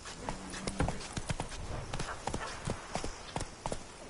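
Roach, Geralt's horse in The Witcher 3: Blood and Wine, gallops in quick, loud, uneven hoofbeats close by over a faint background, with no voices.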